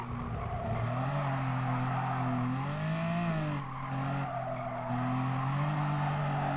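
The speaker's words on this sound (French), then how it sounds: "Les pneus ils glissent." Race car tires squeal and skid continuously in Gran Turismo Sport, a loud sustained screech over a droning engine whose pitch dips and recovers as the car slides through a corner.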